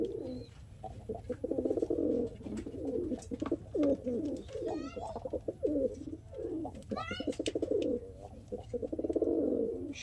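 Old-generation Malbay pigeons coo in repeated low, throaty phrases close by, with a few brief chirps mixed in and no speech.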